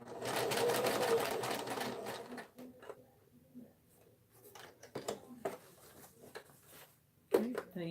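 A sewing machine edge-stitching a tote bag, a loud continuous run of rapid stitching at first, then short stop-start bursts, with a person talking quietly between them.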